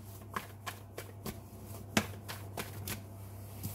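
Tarot cards are shuffled and drawn at close range, making a run of crisp, irregular slaps and flicks over a low steady hum, with one sharper snap near the middle.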